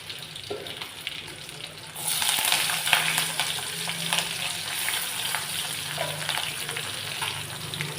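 Dal tempering with garlic sizzles in a hot pan, a steady crackling hiss that jumps louder partway through as more goes in, then keeps frying with faint stirring.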